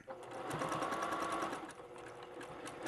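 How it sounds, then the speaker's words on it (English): Sewing machine backstitching a teddy bear seam, a steady close mechanical whir running continuously for about three seconds with a slight dip midway as the stitching reverses. "And I'm gonna backstitch to secure."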